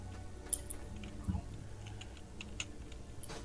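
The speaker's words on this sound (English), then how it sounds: "I've never heard a key like a spacebar that clacked like that before." A computer keyboard spacebar clacks in a few sharp, isolated clicks against a quiet, low background hum, with a couple of softer taps between them.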